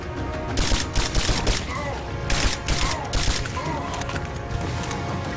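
Rapid gunfire bursts from the action game Rise of the Tomb Raider, loud dense volleys repeating in clusters across several seconds over a busy game soundscape.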